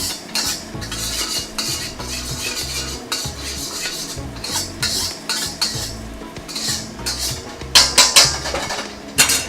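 Shallots fried for dan dan noodles are stirred constantly in a pan, with a utensil scraping and clinking against the metal in quick irregular strokes over a low sizzle, growing louder and busier toward the end.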